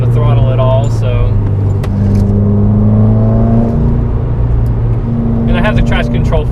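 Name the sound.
2015 Subaru WRX driving on a road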